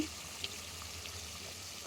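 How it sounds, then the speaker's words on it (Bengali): Steady sizzling of a hot pot as hot water is poured over duck meat cooking for a Bengali duck curry, a soft watery hiss with a couple of faint clinks, no voices. "গরম পানি দিতেছি"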